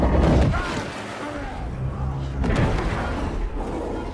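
A powerful explosion from the Deadpool film rings out with deep booming thuds, one burst at the start and a second swell later, under someone narrating.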